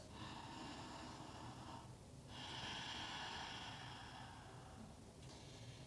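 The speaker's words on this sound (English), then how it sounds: "Ujjayi breath still." Ujjayi yoga breathing during a supine practice: slow, hissing, throat-constricted breaths, one long breath cycle flowing into the next, soft and close with no talking.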